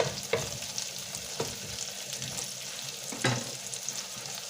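Spoonfuls of minced garlic sizzle over lowered heat in a pan. A soft, steady frying hiss runs throughout, broken by a few sharp clinks of a utensil stirring against the pan.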